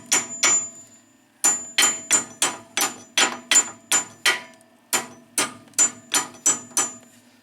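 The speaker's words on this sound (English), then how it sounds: "I'm going to hit these pins." Sharp metallic hammer blows strike the rear brake caliper pins on a 1989 Mercedes 420SEL, close and loud, coming in quick bursts of several strikes separated by short pauses.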